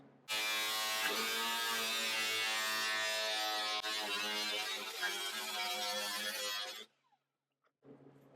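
A cutting disc slices through the metal of a 1938 Cadillac Zephyr fender with a sustained, high, buzzing whine for about six seconds before stopping abruptly, then a faint short noise follows.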